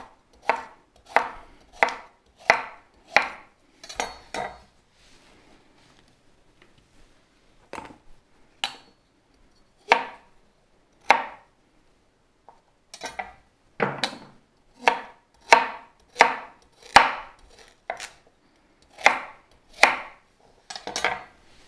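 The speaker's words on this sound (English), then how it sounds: "So again, I'm just cutting the ends off and keeping that peel on there." Knife chopping root vegetables such as white beet on a cutting board, crisp, close, evenly spaced chops in two bursts with a quiet pause between, no talking.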